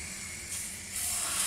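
Pancake batter for meat-filled pancakes fries on a very hot pan, giving a steady close sizzling hiss that swells louder partway through, with no voices.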